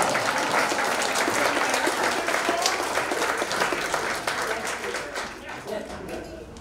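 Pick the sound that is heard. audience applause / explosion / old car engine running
audience applause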